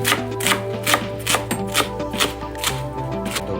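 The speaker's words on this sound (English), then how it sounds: "Let's chop more." Homegrown mustard greens (saag) being chopped with a knife on a board, a steady run of close, crisp cuts at a quick, even rhythm, with no voices.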